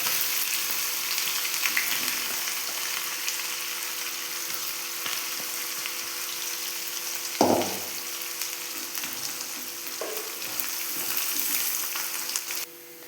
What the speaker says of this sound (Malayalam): നമുക്ക് ഒരു 5-6 ചുവന്നുള്ളി അരിഞ്ഞെടുത്ത് ഒന്ന് മൂപ്പിച്ചെടുക്കണം